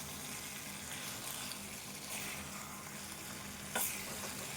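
Partly boiled potatoes fry on low heat in a pan, giving a steady close sizzle with faint stirring and a brief clink near the end.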